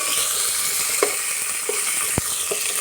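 Chopped vegetables and browned onion pieces fry in a pan for hotel-style idli sambar, a steady loud sizzle broken by a few sharp knocks as the spoon stirs.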